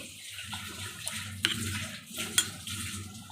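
A dried fish curry being stirred in a pot, with soft scraping and liquid swishing across the whole stretch and two brief metallic clinks of the spoon against the pot, close and moderately quiet, with no talk.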